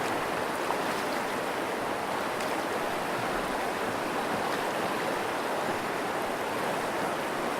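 Steady broadband rush of the Crystal River flowing, cold snowmelt-fed water running continuously and close by at an even level, with no voices.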